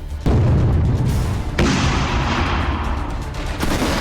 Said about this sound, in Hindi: बम गोलों की बारिश हो रही है।